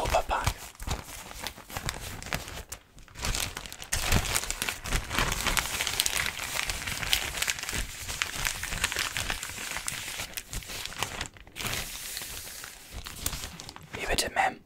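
A Europa-Park shopping bag crinkles and rustles steadily, close and soft, throughout an ASMR roleplay set as a park employee welcoming a guest, with brief pauses and faint whispering in between.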